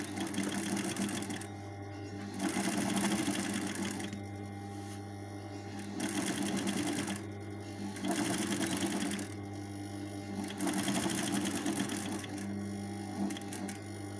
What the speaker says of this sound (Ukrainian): відступаємо 1-2 мм, прокладаємо оздоблювальну строчку